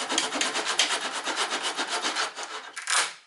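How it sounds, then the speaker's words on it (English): Rough rasping strokes of a saw or blade cutting off the excess of a thin wooden door shim, steady and close for about three seconds, with a brief louder push near the end. "And then just cut off the excess"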